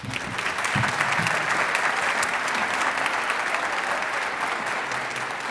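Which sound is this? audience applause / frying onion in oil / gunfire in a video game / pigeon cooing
audience applause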